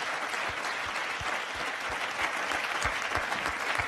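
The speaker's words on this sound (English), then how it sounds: "I think you deserve a very big applause" An audience at a leadership conference gives sustained applause, a dense, steady wash of many hands clapping at a moderate distance, with no one speaking over it.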